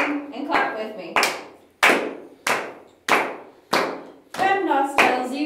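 Hands clap along in a classroom math lesson, about nine sharp, evenly spaced claps in a steady rhythm, with voices chanting in time between them.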